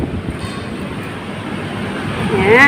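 An MRT metro train in Taiwan rumbles along with steady rolling noise, swelling louder near the end with a rising whine as it approaches or accelerates, no talking.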